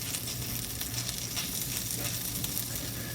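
Swedish meatballs sizzle in a pan, giving a steady, close frying hiss with faint crackle throughout, undisturbed and without any talking.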